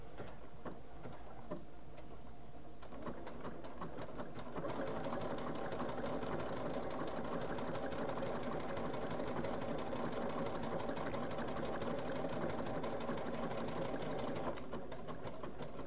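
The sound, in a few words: sewing machine stitching, Solaris 2 projector setup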